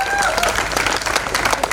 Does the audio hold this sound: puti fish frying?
no